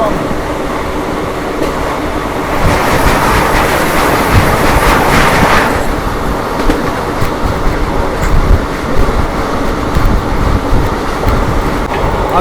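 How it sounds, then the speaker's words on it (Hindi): Vande Bharat Express train passing at a crossing on the Varanasi to Ranchi route, a loud close rush of rolling stock with rhythmic wheel clatter, swelling in the middle then settling into steady rumbling. "अभी आपने वंदे भारत एक्सप्रेस का क्रॉसिंग देखा"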